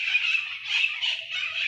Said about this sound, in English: apologies for the birds.